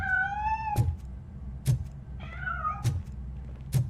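A cat meowing in the Robocop: Rogue City video game, two drawn-out mews with sharp thuds in between, close and clear with no talk.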